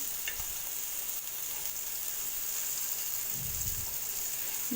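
Sankara fish frying in hot oil in a pan, a steady close sizzle and hiss throughout with a few soft low knocks.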